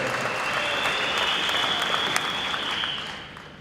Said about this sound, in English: You can give yourself a great round of applause for that.